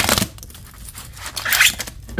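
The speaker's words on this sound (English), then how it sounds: "This one is a little bit chunky for shuffling, but I'm going to do my best." A chunky, flexible tarot card deck being shuffled by hand, giving close, papery riffling and scratchy ruffling bursts over a couple of seconds, with no talking.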